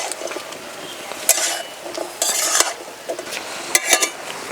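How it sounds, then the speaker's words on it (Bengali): A katla fish head muri ghonto is stirred in a pan after the lid comes off, giving scattered scrapes and metallic clinks of a utensil against the pan, with a faint sizzle between the louder knocks. "ঢাকনাটা খুলে একটু নাড়াচাড়া করে দেব।"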